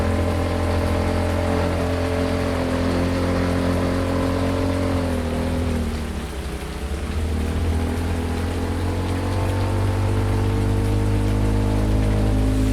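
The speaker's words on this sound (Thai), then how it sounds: "ฝนตกทุกวันเลยนะ" Steady rain hiss in Farming Simulator 19 over a low, constant vehicle engine drone with tonal hum, continuous and fairly loud, with a brief dip in the middle.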